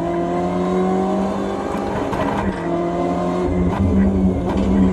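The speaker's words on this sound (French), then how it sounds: "J'ai entendu le bruit du moteur, c'est bon signe." A BMW M8 GTE race car at speed on the Nordschleife, its engine holding a loud, steady, buzzing drone with harmonics shifting through gear changes, close and continuous for several seconds.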